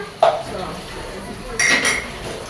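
Dishes and cutlery clinking while tidying up in a kitchen, with two short separate clinks of metal and crockery, faint and intermittent over a quiet room background.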